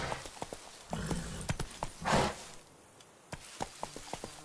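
Roach, the horse in The Witcher 3, trots along with clear hollow hoof clip-clops in an uneven rhythm, close and moderately loud, pausing once before the hoofbeats resume.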